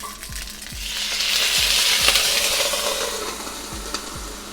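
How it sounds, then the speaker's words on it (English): Water poured into a hot pan of gyoza dumplings, setting off a loud hissing sizzle that swells and steadies, with a few light clinks of utensils near the pan. "pour this water directly on the hot pan and sizzle it out"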